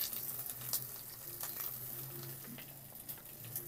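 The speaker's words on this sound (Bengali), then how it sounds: "এবার মশলাটা খুব ভালো করে কষিয়ে নেব।" Spices with tomato paste, dried red chilli paste, coriander powder and turmeric sizzle softly as they are sautéed in oil in a pan, a steady low crackle with scattered pops and light stirring.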